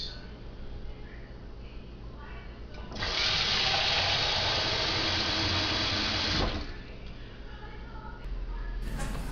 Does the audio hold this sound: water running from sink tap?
yes